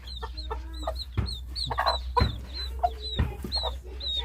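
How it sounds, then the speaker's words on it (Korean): Tiny white silkie chicks, a small breed about sixteen days old, cheep in repeated high peeps with soft clucking, fairly close and steady over a low background hum. "백봉 오골개 병아리 두 마리가 아직 안 죽고 살아있네요."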